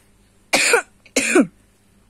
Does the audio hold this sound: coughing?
yes